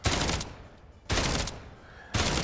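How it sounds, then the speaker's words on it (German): Loud gunfire bursts rip through the VR wave shooter Dick Wilde 2, three heavy volleys of rapid shots, each decaying before the next burst hits. "Also ich schieße einfach alles ab"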